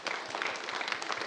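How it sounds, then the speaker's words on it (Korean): An audience at a church gathering applauds children who won prizes at a Bible competition, producing a brief, dense burst of steady clapping with faint voices mixed in. "우리 어린이 위해서 격려의 박수를 한번 쳐주세요."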